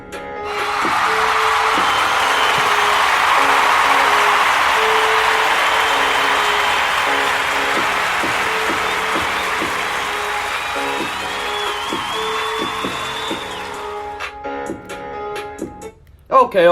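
A studio crowd cheers and applauds loudly and steadily for about fourteen seconds before fading, with faint musical tones underneath.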